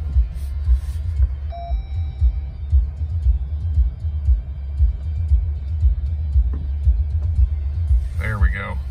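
Steady low engine rumble and drivetrain drone from a vehicle creeping downhill in four-wheel low at about two miles an hour, continuous and close, with a faint tonal whine and brief voices near the end.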